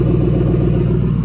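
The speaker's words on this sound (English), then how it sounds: "That's the exhaust. That's basically what it sounds like" Exhaust of a Ford Crown Victoria just after an intake manifold replacement, a steady loud low rumble with an even idle-like pulse, held close throughout without voices.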